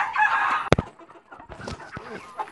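Chickens crowd around a water container in a backyard coop during hot weather, giving short clucks and murmurs, with one sharp sudden call and softer scattered calls close by.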